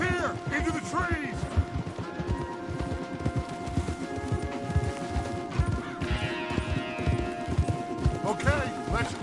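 Video-game horses at full gallop, a close, continuous rhythmic pounding of hooves with music underneath and brief whinnies, and a voice speaking briefly over it.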